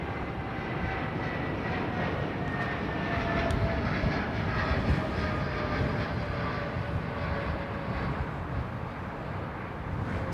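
A heavy jet aircraft departs Heathrow at sunset with a sustained roar and high engine whine at a moderate distance, swelling and slowly fading without voices.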